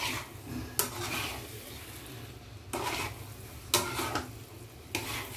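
A spoon stirs a thick pan of biko, a sticky rice cake cooked with jackfruit, in long scraping strokes every second or so, faint and steady over a low background hum.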